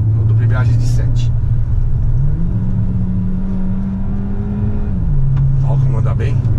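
An Audi Q3 Black Edition accelerates hard, its engine note climbing, holding, then dropping with a gear shift, loud and close from inside the cabin, with brief talk over it.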